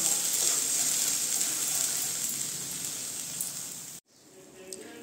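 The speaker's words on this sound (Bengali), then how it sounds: "এখন এটাকে ভালো করে কষিয়ে নিব আমি।" Pointed gourd pieces sautéed with salt in a pan, giving a steady hissing sizzle with faint stirring scrapes that cuts off abruptly, leaving quiet with a few small clicks.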